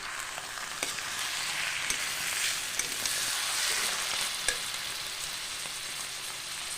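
Young bottle gourd with a fish head cooks down in a pan, giving a soft, continuous frying hiss with scattered faint crackles and an occasional light tap.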